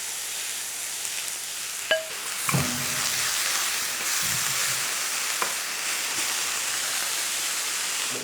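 Shredded shiitake mushrooms and vegetables flash frying in a pan, a steady bright sizzle with a few clinks and stirring knocks over the top.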